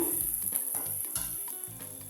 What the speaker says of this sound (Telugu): బాగా ఫ్రై అయ్యిందండి, పచ్చివాసన లేకుండా ఫ్రై చేసుకున్నాము